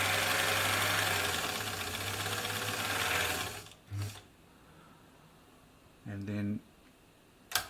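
Elna Supermatic sewing machine with an automatic buttonhole attachment stitching a buttonhole bar, a steady close mechanical whir for a few seconds that then stops, followed by two short bursts of stitching.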